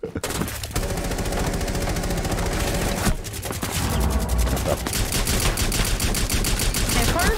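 Rapid automatic gunfire from a Rainbow Six Siege team deathmatch, sustained bursts and volleys that fill nearly the whole stretch with dense, loud shooting and a brief lull near the middle.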